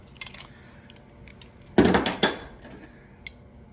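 Metal Allen keys dropped into a tool drawer, giving two quick, bright metallic clinks close by, with faint rattles before and after in an otherwise quiet room.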